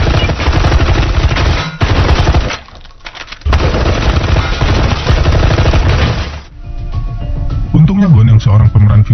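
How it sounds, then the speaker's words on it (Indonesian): Bursts of rapid machine gun fire rattle loudly in long volleys with brief pauses, mixed with booms and a voice toward the end, from an ambush scene in the 2019 Korean action film Vagabond. "diserang oleh orang tak dikenal menggunakan senapan mesin"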